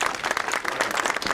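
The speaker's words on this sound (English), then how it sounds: "let's give them a big round of applause as well." An evening conference audience breaks into steady, full applause for event volunteers, dense clapping from a sizable indoor crowd filling the moment without pause.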